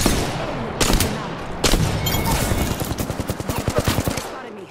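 Video game gunfire: scattered shots early, then a fast, steady run of rapid-fire bursts near the listener.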